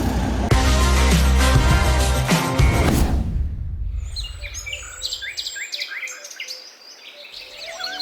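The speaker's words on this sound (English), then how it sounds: "Birds were singing" Birds singing outdoors in a series of bright chirps and tweets, fairly faint, after loud music fades out.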